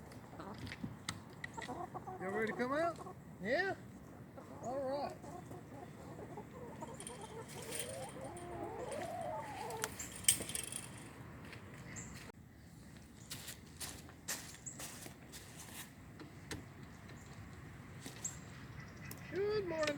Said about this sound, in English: Good morning, chickens. Morning, chickens.